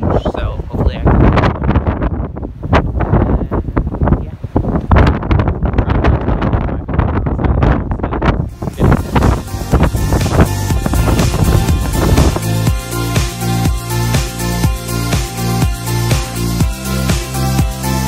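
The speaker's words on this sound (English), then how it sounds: "It's really windy, like very windy" Strong wind by a beach on the Irish coast buffets the microphone in loud, gusty roars, then continues under a bright, rhythmic musical passage in the second half.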